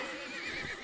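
A horse neighs in the medieval combat game Mount and Blade: Warband, a short whinny heard up close amid a busy battlefield din of clatter and noise, with no talking.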